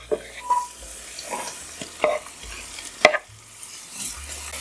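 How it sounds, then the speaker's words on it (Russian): Onions sizzle and crackle in a hot pan with a few sharper clinks and stirs of a utensil, steady frying hiss throughout, no voices. "Обжариваю его до легкого золотистого цвета."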